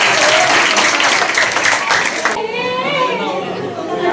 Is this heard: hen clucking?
no